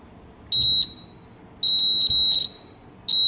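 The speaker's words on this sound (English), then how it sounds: "This turns the buzzer and gives alarm." Buzzer of a homemade earthquake alarm built from an uninsulated wire and safety pin, sounding three loud, steady high-pitched buzzes in short on-off bursts, each about half a second to a second long.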